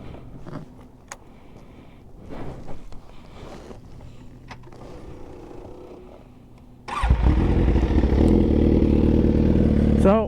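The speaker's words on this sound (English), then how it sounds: "I haven't actually went like full throttle on this bike neither, but let's go ahead and turn it on so you guys can hear it" A motorcycle engine fires up after some quiet handling noises, then settles into a loud, steady, rumbling idle close by.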